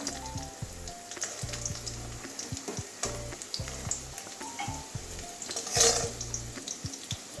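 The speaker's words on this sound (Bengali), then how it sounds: "আমার আলুটা ভাজা হয়ে গেছে লাল লাল করে ভেজে নিয়েছি" Potatoes fry in hot oil with a steady close sizzle, with light stirring clatter and a brief louder splash of spattering oil partway through.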